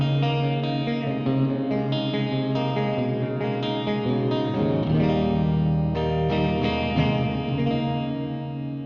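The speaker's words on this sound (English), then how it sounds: "Here we just got a regular hall reverb," Gibson Firebird X electric guitar played through a hall reverb preset, sustained chords ringing with a long, washy tail, steady and fairly loud throughout with no talking.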